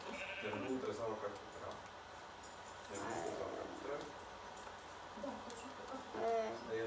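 Minecraft sheep bleat repeatedly, several nasal baas spread across the stretch, mixed with game sounds while a player keeps talking throughout.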